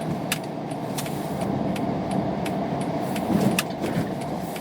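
A 2015 Honda Odyssey EX-L minivan on 17-inch wheels with tall-sidewall tires rolls over a bump, a steady low cabin road rumble with a soft, muffled thump late on and faint rattles above.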